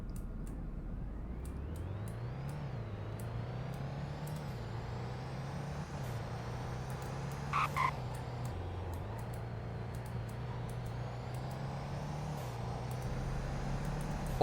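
A 2017 Sumo Boxas truck drives in the Roblox game Greenville, its engine drone rising and falling through gear changes over about fourteen seconds, with a brief hiss of air brakes partway through and no voices.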